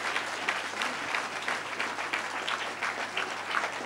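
An audience at a MoDem members' debate applauds steadily, a dense wash of clapping hands that stays even throughout.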